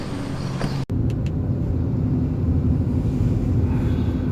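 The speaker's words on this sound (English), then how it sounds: "heading out of Teluk Intan now with Amirul behind the wheel of the Iriz" Interior of a Proton Iriz on the road in a convoy, a steady, loud low engine and road rumble throughout, with a brief dropout and a few faint clicks near the start.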